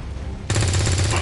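A sudden burst of rapid automatic gunfire from XCOM 2 begins partway through and holds loud and steady to the end, with deep low-end thump under the crackle.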